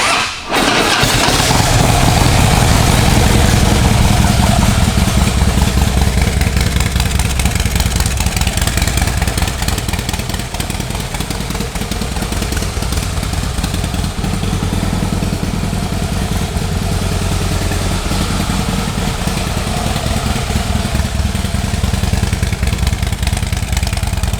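A 2008 Harley-Davidson Heritage Softail motorcycle engine cranks and catches, then settles into a loud, steady, close-up idle with an even rumbling throb that holds for the rest of the clip.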